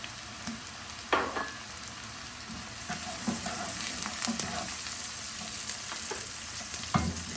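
Rice sizzles and fries in olive oil in a pan, a steady crackling hiss close up, broken by a few scraping stirs and clatters of a utensil.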